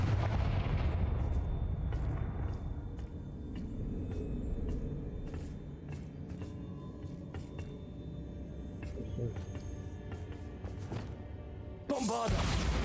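A Confringo fire spell cast in Hogwarts Legacy sets off a loud, deep rumbling blast that fades over several seconds amid sharp crackles and game effects, and a fresh burst of noise comes near the end.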